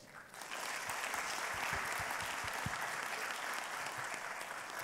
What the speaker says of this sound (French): Je voudrais que vous l'applaudissiez d'abord.